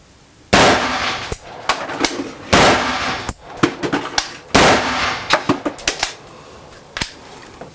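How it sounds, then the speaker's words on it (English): Rifle shots from a 16-inch Daniel Defense AR firing 55 grain ball inside a house through interior walls, a run of sharp, loud cracks in uneven clusters with echoing decay, several quick shots near the end, no talk. "we're going to shoot a little bit inside"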